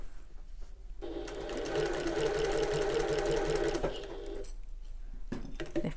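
A sewing machine stitches around a bag handle in a steady, loud whirring run of about three seconds, starting and stopping abruptly with short quiet pauses and small handling clicks on either side, as the presser foot is lifted to pivot.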